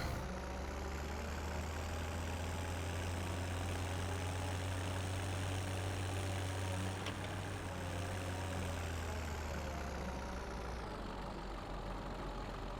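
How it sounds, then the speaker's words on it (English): Tractor engine idling steadily in Farming Simulator 17, hand throttle up with a PTO load; a loud, continuous low diesel drone with a constant hum that holds evenly, then dips slightly near the end. "Come on, tractor."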